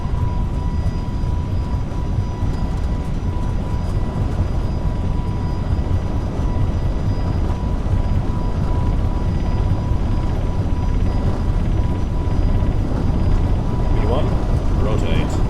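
Airbus A321LR engines spooling at takeoff thrust in the FSLabs flight simulator, a steady loud broadband roar that holds throughout, with cockpit callouts spoken over it.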